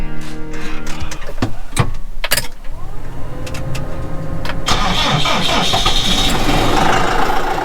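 A car engine cranks and catches on a chilly morning, with several stuttering cranks followed by a rising rumble that settles into a loud, steady idle close by.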